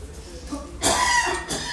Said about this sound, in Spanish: me hago un poquito con la tos y con la alergia